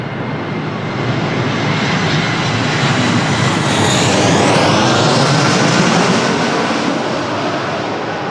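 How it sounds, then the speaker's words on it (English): An airliner arriving from Barcelona on short final at Lisbon Airport in windy weather, producing a steady broadband roar that swells slightly midway and holds for the whole stretch, with no voices. "Flight from Barcelona on the short final."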